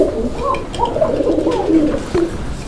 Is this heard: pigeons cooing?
yes